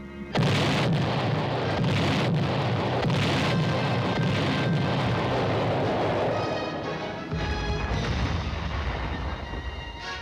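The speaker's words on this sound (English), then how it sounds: "Having called for artillery fire, the observers stand by." Artillery batteries firing fire missions, heavy booming blasts and rumbling reports that roll continuously with a dense low roar, a few sharper impacts early on, then a sudden drop in the deep rumble toward the end.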